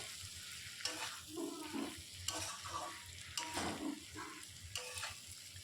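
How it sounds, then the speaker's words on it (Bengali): Spices with ground coriander and Kashmiri chili powder are sautéed for a potato-egg curry, a quiet sizzle punctuated by regular scraping and stirring strokes in the pan, fairly close and soft overall. "একটু কষাবো।"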